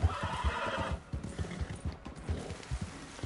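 A horse in Red Dead Redemption 2 whinnies briefly at the start while hooves clop steadily throughout, close and fairly loud.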